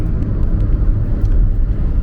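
A car cruises steadily at about 110–115 km/h on the Ahmedabad–Dholera expressway, a continuous low rumble of engine and road noise heard from inside the cabin, even and unbroken throughout.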